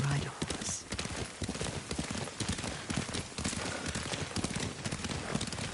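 Horse hooves clip-clopping at a riding pace in the video game Ghost of Tsushima, a steady rhythmic patter running throughout under continuous talking.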